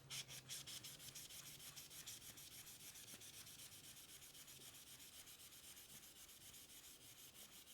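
A kitchen sponge rubbed back and forth along the edge of a dull bread knife, steady repeated scraping strokes at close range, a fairly quiet and even rhythm throughout with no voices.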